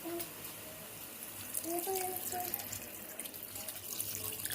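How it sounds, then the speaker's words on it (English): A steady stream of chicken broth pours and splashes into a pot for turkey chili, with a faint voice briefly audible in the background. "So I'm going to start off by adding my chicken broth."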